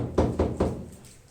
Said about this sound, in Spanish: Cuando llamó Pedro a la puerta